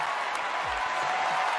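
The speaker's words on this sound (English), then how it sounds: "he got a standing ovation" Audience giving Robert De Niro a standing ovation, a dense steady wash of clapping heard briefly throughout.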